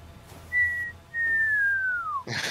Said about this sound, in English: You hear that whistling?